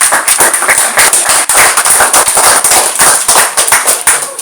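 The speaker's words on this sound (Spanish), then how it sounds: "Denle un fuerte aplauso a mi Señor" A church congregation gives a loud round of applause during a Spanish-language Sunday sermon, with sharp, dense, close hand claps running continuously for about four seconds.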